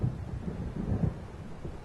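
Low, rolling rumble of approaching thunder in the video game Alan Wake, a sustained muffled growl swelling and fading over about two seconds with no voices.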